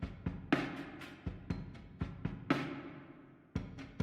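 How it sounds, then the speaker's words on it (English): A vintage-soul style drum loop with EQ and reverb, a steady pattern of kick and snare hits with ringing cymbal washes repeating at a moderate tempo, played alone and fairly quiet. "I also added this drum loop"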